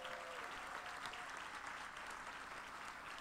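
Steady applause from a banquet audience honoring award recipients at a suburban diversity celebration, dense and continuous throughout with no pauses.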